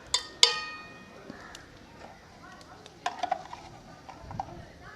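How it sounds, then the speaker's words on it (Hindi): Spices being stirred into a goat head in a pot, a spoon scraping and clinking against metal in irregular strokes, close but fairly quiet, with a few sharp knocks. "मसाले को मिक्स कर लेंगे।"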